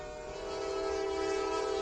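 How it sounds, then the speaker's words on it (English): A Norfolk Southern freight train approaches, its steady horn blast rising in loudness over a low rail rumble, sustained through the whole stretch with no talking. "before a Norfolk Southern freight train came"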